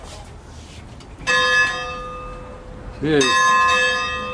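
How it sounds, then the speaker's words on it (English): At the Casey Jones Museum in Jackson, Tennessee, a bell is rung twice, each stroke loud and close with a long ringing decay, while someone speaks briefly between the strikes. "they let you ring the bell. Isn't that great?"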